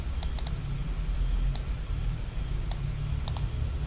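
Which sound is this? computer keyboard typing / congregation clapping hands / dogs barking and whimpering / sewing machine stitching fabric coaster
computer keyboard typing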